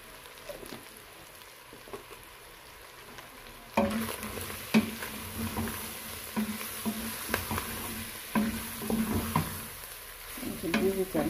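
Beef wet fry with beef masala sizzles in a pan while a spoon stirs it, giving repeated scraping clicks over a steady frying hiss that grows louder partway through, close and quiet with no talking.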